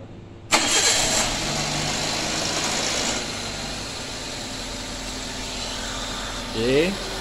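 A Perodua Myvi or Alza engine cranks and catches with a sharp burst, then settles into a steady, fairly loud idle, with brief voices near the end.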